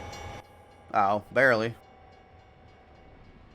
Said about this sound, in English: Let's actually watch the train real quick